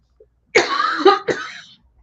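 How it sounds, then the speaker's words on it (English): A person coughs twice in quick succession, close and loud, the second burst shorter, with near silence before and after. "I'm gonna cough"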